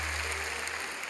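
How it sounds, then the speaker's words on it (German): An audience at a live magic show claps in a dense, steady wash of applause, fairly soft and brief, with no voices over it. "Können wir jetzt hinten mal ein bisschen klatschen?"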